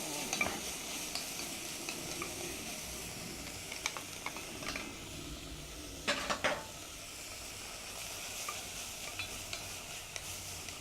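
Corn goes into a pot of chowder soup and is stirred, a steady soft scraping and gentle sizzle running throughout with a few louder spoon knocks against the pot.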